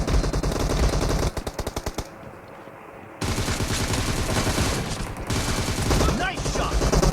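Automatic gunfire from the video game PUBG Mobile: loud, rapid bursts of rattling shots fired in close succession, briefly dropping to a near-silent pause before the firing resumes in heavy, sustained volleys.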